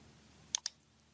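Two crisp computer mouse clicks sound in quick succession, close and distinct, against a faint steady room hum, with no voices.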